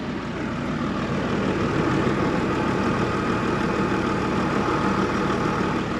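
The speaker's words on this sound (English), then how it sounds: "listen how quiet this motor is" Steady low idle of a 2016 Coachmen Prism class C motorhome's Mercedes-Benz diesel engine, a smooth, quiet continuous hum that stays even throughout with no voices.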